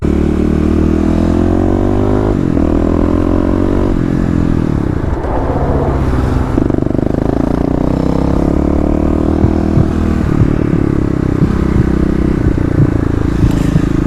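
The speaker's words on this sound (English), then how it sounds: "I am just riding around trying to get the break-in done" A Kawasaki KLX351 dual-sport motorcycle ridden during engine break-in on slick ground, its single-cylinder engine droning loud and close with steady harmonic pitch, shifting and easing in speed, plus occasional clatter and wind.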